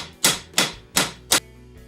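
A hammer strikes the wheel hub of a Ford Focus during a wheel bearing replacement, four sharp metallic taps in quick succession, close and evenly spaced, with no talk.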